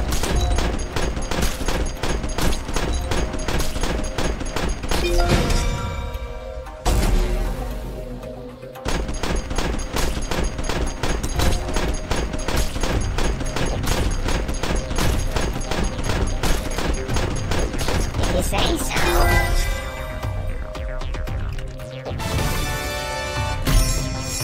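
Rifle gunfire in the Bug Heroes Tower Defense game, rapid loud shots repeating in steady bursts with heavy impacts, nearly continuous over a driving background score with two brief pauses.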